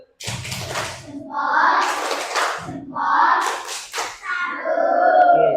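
A religious-education class performs the tepuk salut clapping routine: children chant in unison in short bursts, with quick hand claps punctuating the chant, close and fairly loud.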